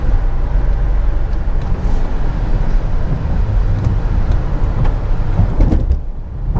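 A 2025 Volvo XC60 PHEV plug-in hybrid drives hard along a really wet road, giving a steady, loud broadband rush of tyre and road noise with low rumble throughout, easing slightly near the end.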